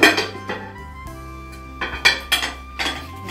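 A cheese chapati sandwich is turned over on a buttered griddle pan, giving a few sharp metallic clinks and scrapes of a spatula against the pan, spaced out over a soft background hum with no talk.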